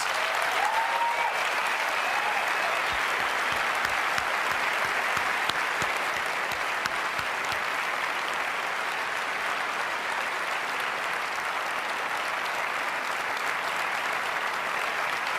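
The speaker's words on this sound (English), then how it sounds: "So please help me give them a round of applause." Sustained, dense applause from a large audience at Apple's WWDC 2009 conference continues steadily and loudly throughout, with no voices rising above it.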